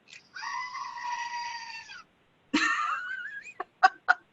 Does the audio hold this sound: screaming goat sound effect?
yes